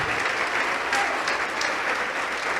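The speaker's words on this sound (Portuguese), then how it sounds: "vamos aplaudir mais" A church congregation applauds steadily and fairly loudly throughout, a dense wash of clapping with no break, while a few voices sound faintly beneath it.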